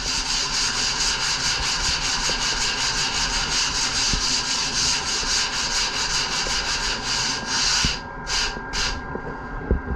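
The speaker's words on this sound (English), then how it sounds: "I can just use my 40 grit block" Wood sanded by hand with a 40 grit sanding block: steady, rapid back-and-forth rasping strokes sound close and even, then slow into a few separate final strokes.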